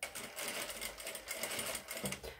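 A domestic sewing machine stitching and backstitching an armhole seam on an A-line garment, giving a continuous close, rapid rattling whir that runs steadily throughout with slight fluctuations and no talking.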